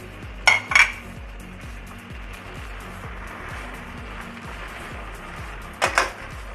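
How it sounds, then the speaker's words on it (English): Chilly parotta being stirred in a pan: two brief metallic clinks of a utensil against the pan, near the start and near the end, over a steady low cooking hiss. No talking. "Give it a nice stir."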